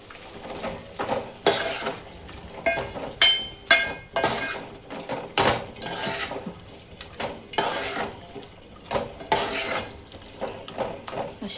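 Onion-garlic masala with chilli powder fries in a pan for a dhaba-style chicken curry, a utensil scraping and clanking in repeated uneven strokes over a low sizzle, close and fairly loud, with no talking.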